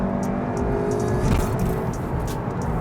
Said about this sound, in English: Immediately there's more engine noise.